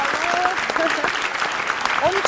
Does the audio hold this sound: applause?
yes